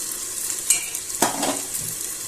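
Chicken biryani ingredients with yogurt being stirred in a pot, a few scraping strokes and soft clinks over a low continuous sizzle, close and fairly quiet.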